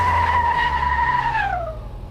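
A car scrapes while being parked in Car Mechanic Simulator 2026, a single loud, sustained screech that holds steady, then bends downward and fades out over a low engine hum.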